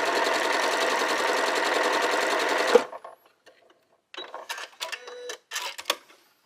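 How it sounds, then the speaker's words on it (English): A reassembled sewing machine runs in a fast, steady stitching burst for about three seconds, then stops; scattered clicks and handling noises follow. "put my sewing machine back together and stitch again"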